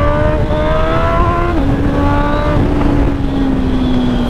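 Engine of a Honda CB1000 motorcycle accelerating on the road, loud and close with heavy wind rumble; the pitch climbs steadily through gears, dipping at each shift, with no talking.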